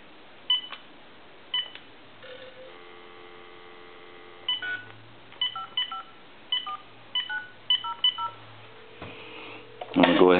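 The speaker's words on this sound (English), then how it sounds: "I'm going to use another telephone to actually dial, like say, a time and temp number." Touch-tone dialing from a second telephone calling a time-and-temperature number: short DTMF beeps in quick bursts over a steady line hum, ending in a louder burst as the call connects.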